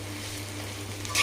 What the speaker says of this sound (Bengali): তো এদিকে পকোড়াটা ভাজা হচ্ছে